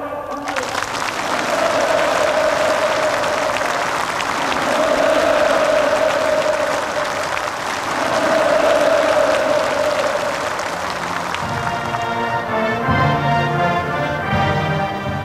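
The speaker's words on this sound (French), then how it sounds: "Applaudissements et cris de joie répondent à un code précis." A huge organized crowd in North Korea applauds and cheers in rhythmic waves at a rally for the Premier, with a dense roar of clapping and chanted shouts that swells and falls before giving way to music.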